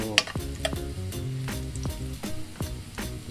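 Sautéing in a frying pan before onion goes in, for a banana-blossom sisig: steady sizzling with repeated scraping and stirring strokes of a utensil, close and continuous, no talking.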